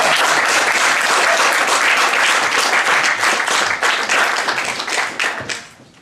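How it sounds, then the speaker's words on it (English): Loud, dense audience applause fills a hall at the close of a debate, sustained steadily before tapering off toward the end. "You can all clap now."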